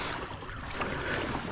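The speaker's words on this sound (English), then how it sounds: "the wind just picked up dramatically" Strong wind buffets the microphone while kayaking at sunrise, a loud, continuous roaring rush with no speech.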